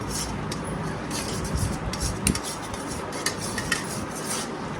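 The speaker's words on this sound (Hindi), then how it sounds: "हाँ इसको ऐसे चम्मच हिलाओ, जल्दी ठंडी हो जाएगी।" A spoon stirs hot food in a dish at a family dinner gathering, giving soft intermittent clinks and scrapes of cutlery against the dish over a low busy room background, with one sharper knock midway.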